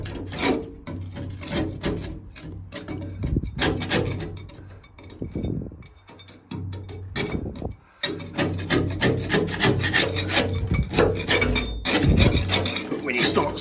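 Rust being scraped off a steel boat hull with a hand tool, rasping and rubbing strokes repeated in a steady run, close and fairly loud, with brief pauses between bursts.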